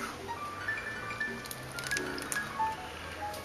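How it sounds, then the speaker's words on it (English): Cornbread batter is stirred by hand as wet ingredients are gradually worked into the dry, giving soft, quiet, continuous squishing and sloshing with faint clinks and no talk. "Gradually mix the wet ingredients into the dry ingredients."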